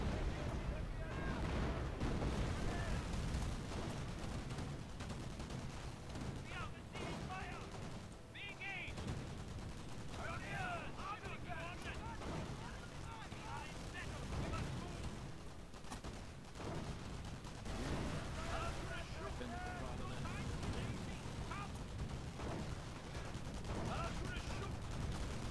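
Artillery fire booms in a video game battle, a long stretch of dense, rumbling shots and crackling impacts, with voices talking over it at times.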